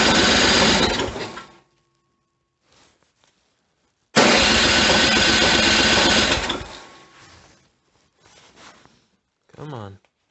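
A snow blower engine cranking at full throttle in -10°F cold without starting, in two long loud bursts of rapid chugging separated by silence, followed by a few short weaker cranking attempts.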